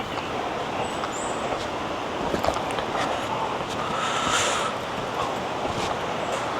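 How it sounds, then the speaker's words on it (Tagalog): Steady broadband rush of a flowing stream in the forest on Mount Makiling, continuous and fairly close, with a faint breezy hiss layered over it and no voices. "Ewan ko kung naririnig yung nilagaslas ng tubig."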